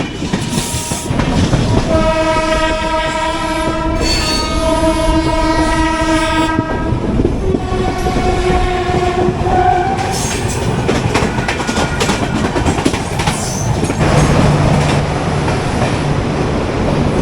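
Ratnagiri passenger train passing on the Mumbai rail line, with long sustained horn blasts repeated several times over loud continuous wheel rumble and clickety-clack, very close and dominant throughout.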